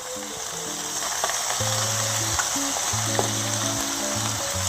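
Onions frying in a pan with king oyster mushrooms, garlic and green onion, giving a soft steady sizzle with no talk, while faint background music plays over it.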